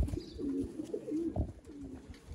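A hobby-bred pigeon coos in low, rolling phrases, near and clear, two or three soft calls over a light background hiss.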